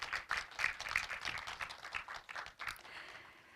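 A lecture audience at a Korea University online journalism awards event claps in a fairly faint, distant patter that fades out toward the end.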